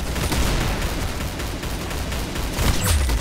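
Gunfire in the Roblox shooter Arsenal comes in a dense, fast fusillade of rapid shots and booms that blur together, loud and close throughout, with a few heavier thuds near the end.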